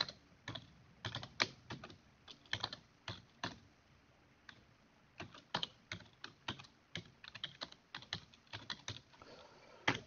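Irregular clicks and clacks of a computer keyboard as Python code is typed in bursts, moderately close and fairly quiet, with no voices.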